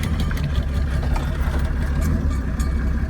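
Turbocharged Mercedes OM603 diesel swapped into a 380SL roadster, a steady loud low rumble running throughout without pause, heard close up.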